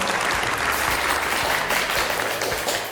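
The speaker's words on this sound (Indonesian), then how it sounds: "Tepuk tangan untuk Anda semua yang telah hadir di tempat ini" An audience at an MC school event claps together in a loud, dense burst of applause that stays full and steady, thinning slightly at the very end.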